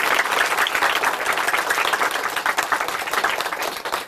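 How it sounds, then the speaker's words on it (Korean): Sustained applause from a church program audience, dense steady clapping that fills the whole stretch without break, with no talk over it. "박수 한번 부탁드리겠습니다"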